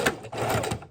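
A sewing machine locking a couple of extra stitches at the end of a seam on a mini junk journal, one brief close burst of stitching.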